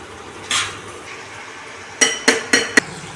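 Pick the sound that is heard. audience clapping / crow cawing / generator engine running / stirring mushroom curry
stirring mushroom curry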